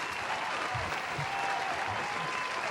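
A television studio audience applauds in a steady, fairly distant wash of clapping that stays even from start to finish.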